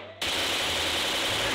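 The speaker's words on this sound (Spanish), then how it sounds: "Voy a disparar." Sustained automatic gunfire in the mobile shooter Free Fire cuts in abruptly and continues as a loud, dense, unbroken burst to the end.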